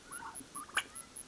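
Turkeys in an outdoor homestead enclosure give a brief, faint gobble with a few short calls, heard at a distance.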